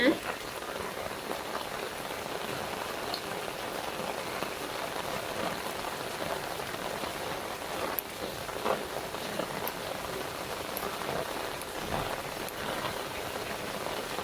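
Steady rain falls outdoors while holy basil is being picked, a dense, even patter on surfaces with occasional louder drips and faint rustling, and no talking.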